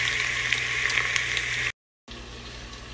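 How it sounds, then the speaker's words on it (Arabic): Onion slices fry in hot oil with a steady, close sizzle and crackle, broken by a brief silent gap before resuming. "راح نحمي الزيت، وبعدين نحط شرائح البصل كاملة ونخليهم لما يذبلوا"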